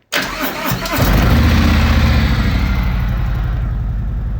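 A 2018 Harley-Davidson Road Glide with Vance and Hines exhaust, baffles in, cranks briefly, then catches and settles into a loud, steady, deep-toned idle.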